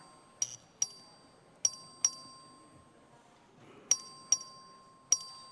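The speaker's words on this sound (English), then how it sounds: "The clerk ring the bell." A voting bell in a legislative chamber, rung by the clerk for a record vote on a resolution, gives crisp metallic dings, roughly eight strikes in irregular pairs and singles that ring briefly over faint room noise.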